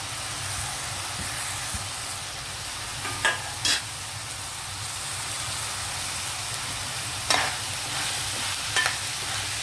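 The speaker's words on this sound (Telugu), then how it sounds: "ఇప్పుడు బెండకాయ వేసేద్దాం." Okra frying in hot oil in a pan, a continuous close sizzle and hiss with a few short clatters of stirring or scraping, no talking.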